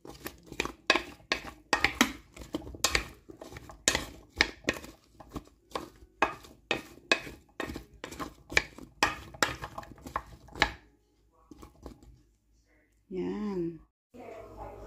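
Ingredients are mixed with about two tablespoons of oil for baked chicken with potatoes and carrots, heard as quick, rhythmic clacks and scrapes of a utensil in a bowl. They stop near the end, followed by a short burst of speech.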